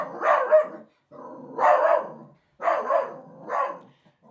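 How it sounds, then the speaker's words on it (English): Dog barking in four bursts, each of two or three quick barks separated by short silences, close and clear. "He's so excited that he's barking. This dog."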